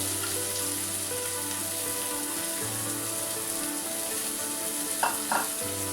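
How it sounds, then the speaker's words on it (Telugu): Onions and cumin frying in hot oil toward golden brown for an egg fry dish, a steady close sizzle with a low hum beneath and a couple of brief stirring clinks near the end. "గోల్డెన్ బ్రౌన్ కలర్ వచ్చే వరకు ఫ్రై చేసుకోవాలన్నమాట."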